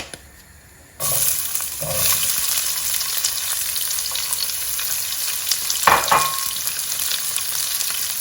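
Chopped onion and green pepper dropped into hot oil left from frying eggs, bursting into a loud continuous sizzle after a quiet start, with occasional stirring scrapes; no voices.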